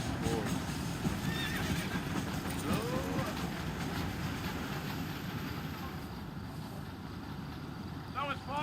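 Horse hooves clatter at a steady gallop in the video game Red Dead Redemption, over a continuous outdoor rumble, with a horse whinnying briefly and faint voices in the background.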